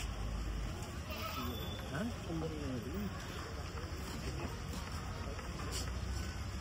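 Goats bleat a few times, wavering calls rising and falling, under steady wind noise with people talking nearby at an outdoor goat market in Bangladesh.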